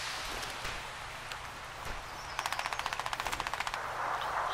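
Automatic weapon fire from an enemy Swarmer drone in the video game Crysis 3: a rapid burst of about fifteen sharp, evenly spaced shots over a steady background hiss, fairly distant and moderate in level.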